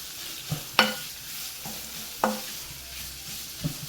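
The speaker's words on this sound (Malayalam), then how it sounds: "സവാള ഇളക്കി വഴറ്റിയെടുക്കാം" Sliced onions are stirred and sautéed in a pan, a soft background sizzle broken by a few sharp scraping strokes of a spoon, spaced about a second apart.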